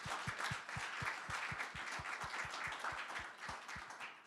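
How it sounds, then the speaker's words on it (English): Conference audience gives a round of applause at an infrastructure research meeting, steady dense clapping with a rhythmic thump beneath, heard from within the hall. "So one big round of applause for them."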